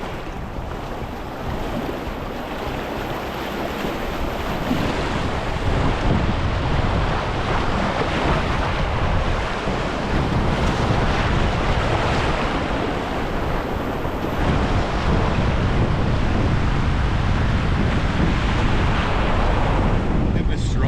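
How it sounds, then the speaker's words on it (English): A strong headwind roars steadily across the microphone while someone paddles on a river in the Yukon wilderness, with a rushing, water-like texture. The wind noise is loud and unbroken for about twenty seconds, and no one speaks. "Getting a strong headwind too, which is not ideal on a day that I'm trying to make distance."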